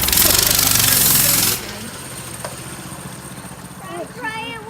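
A Coleman BT200X mini bike engine runs loud and rattly at close range for over a second, then cuts down to a quieter idle or distant hum while people talk.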